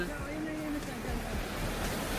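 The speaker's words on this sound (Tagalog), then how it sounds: "Ang lakas na ano, ng alon." Strong surf roars in a continuous broad rush, waves churning loudly and close, with faint voices partly buried beneath the noise.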